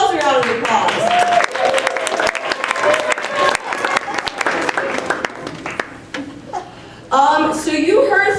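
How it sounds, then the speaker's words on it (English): Audience applause at a Martin Luther King Jr. Day hip hop event at Fort Lewis College, mixed with crowd chatter, children's voices and some cheering, with a brief lull before the clapping swells again near the end. "So give yourselves a round of applause."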